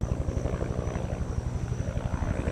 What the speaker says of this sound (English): Right now there's a helicopter that's coming down here, very low and close.